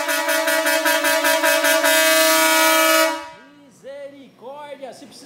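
A loud dual marine air horn on a Fiorino van blares steadily for about three seconds, two tones layered together, then cuts off as voices react excitedly.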